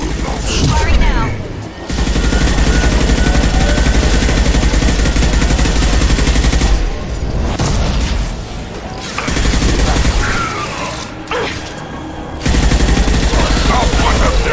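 Heavy gunfire in the sci-fi shooter Mass Effect 2: dense, loud bursts of automatic weapons fire and impacts. Brief pauses break the long runs of shooting, and voices are heard under the din.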